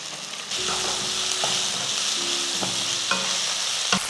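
Beans sautéing with onion and tomato in a pan, a steady close sizzle broken by several scraping strokes of a stirring spoon, with no voices.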